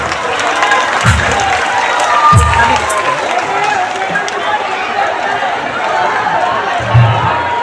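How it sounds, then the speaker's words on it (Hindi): Sustained audience clapping at a bhajan evening program, a thick, continuous patter of many hands with crowd chatter and occasional louder thumps underneath. "तो देखते हैं कितनी ताली बजा सकते हैं।"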